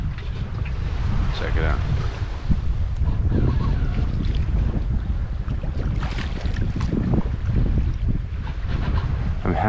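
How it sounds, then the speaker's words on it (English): Steady wind rushing across the microphone and water washing along the hull of a sailboat running under autopilot on an ocean crossing, loud and constant, with a brief spoken remark. "there's nothing except for the autopilot, the wind and the water right now"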